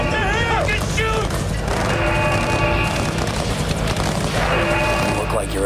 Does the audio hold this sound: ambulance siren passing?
no